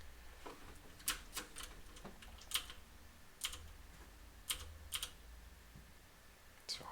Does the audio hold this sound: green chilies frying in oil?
no